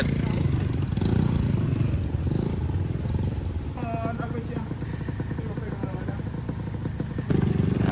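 A motorcycle on a flood-damaged road toward Limau, in the aftermath of a galodo, engine clattering and revving close by over rough ground, with people talking throughout.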